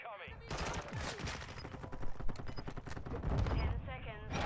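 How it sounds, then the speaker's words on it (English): Mortar strike in Modern Warfare 2 during online multiplayer play: a dense barrage of loud gunfire and explosive blasts rolls on for several seconds with little pause, close and heavy, with no talk over it. "Hostile mortar strike incoming."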